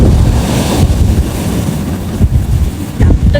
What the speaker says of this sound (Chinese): 好大风，一定要注意，不要让风把垃圾给吹跑